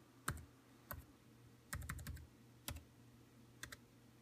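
A password is typed on a Mac keyboard in a quiet room: short clusters of crisp, close key clicks, a single tap, then a quick flurry and a few isolated presses spread over about four seconds, with no speech.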